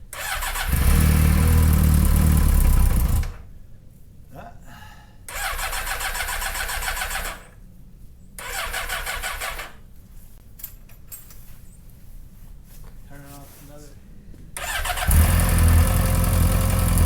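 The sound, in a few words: small engine starting with AntiGravity lithium ion restart battery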